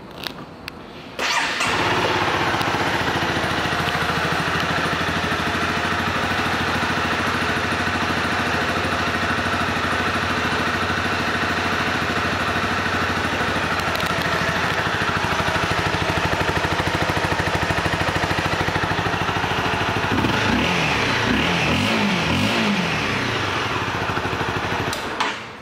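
A 2012 Honda CBR250R motorcycle engine starts up and settles into a steady, loud, close idle that runs uninterrupted, with a brief blip of changing revs near the end.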